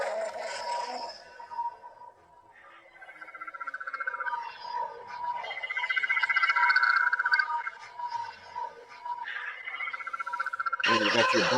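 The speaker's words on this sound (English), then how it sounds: "you can throw on whatever version of the Dark Saber sound font that you" LGT Xenopixel lightsaber running a Dark Saber sound font, a humming, crackling electronic blade tone that swells and wavers over about eleven seconds, ending in a sharp burst.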